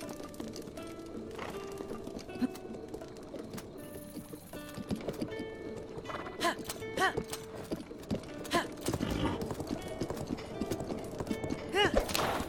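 Horse hooves gallop in Zelda Breath of the Wild, a steady rapid clip-clop running throughout alongside game music and ambient effects, fairly close and prominent.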